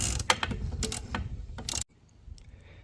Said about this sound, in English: Feed your wrench in between the spare tire and start loosening the two bolts.